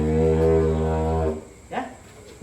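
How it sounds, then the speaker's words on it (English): A didgeridoo played with the lips too soft gives a low, buzzing, harmonic-rich drone that holds steady for just over a second and then stops, followed by a soft, brief voice-like sound. "didgeridoo is a woodwind instrument"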